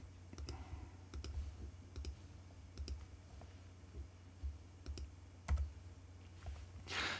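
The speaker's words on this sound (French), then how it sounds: "Si j'appuie 2 fois sur la touche option, il copie constamment." Keys on a computer keyboard are pressed for modifier shortcuts in SketchUp Free, giving sharp, separate clicks spread across a quiet room with faint low hum.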